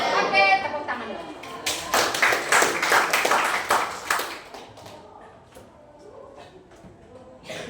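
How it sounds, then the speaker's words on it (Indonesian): A physics class of students claps together in a classroom, a burst of close, dense hand claps lasting a few seconds before tapering off into quiet room noise with a voice. "tepuk tangan dulu"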